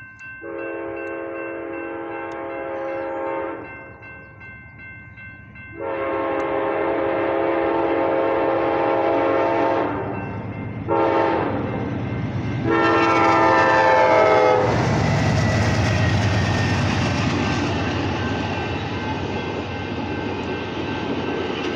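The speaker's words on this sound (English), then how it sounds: "here comes another train. And it's the Coast Starlight." The Amtrak Coast Starlight, a southbound passenger train on a BNSF main line, sounds its horn in loud repeated blasts. The clattering roar of the passing cars follows close by.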